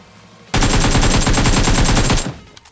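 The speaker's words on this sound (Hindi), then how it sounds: "सामने से मुझे फायरिंग की आवाज़ आती है" Loud, rapid automatic gunfire in the mobile game PUBG Mobile fires as one sustained burst of about two seconds, then stops abruptly.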